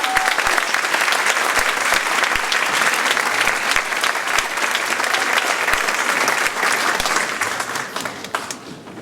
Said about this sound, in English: Let's have an applause for